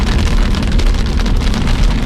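Heavy rain from a high-precipitation supercell drums steadily and loudly on a surface, a dense, unbroken roar with no voices.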